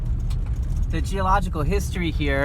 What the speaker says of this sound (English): The car's coming.